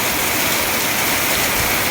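Rainwater rushes through a low-lying Porbandar neighbourhood toward a creek, a continuous, loud broadband roar of flowing water with no breaks and no voices.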